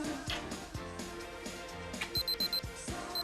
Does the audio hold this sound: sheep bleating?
no